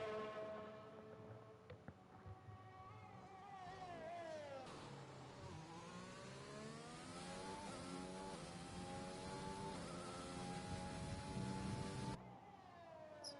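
A Mercedes Formula 1 car screams through a fast lap in the F1 2020 racing game, its high engine note climbing and dropping through gear shifts and braking, loud and continuous for the whole stretch.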